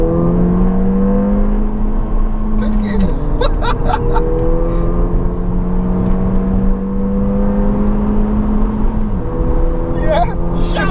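A Ford Fiesta ST engine holds a steady high-rev drone from inside the car, dipping briefly and climbing again, with people talking over it throughout.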